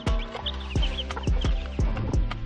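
Young chicks peep in quick, high chirps close by, mixed with soft repeated thumps and rustling.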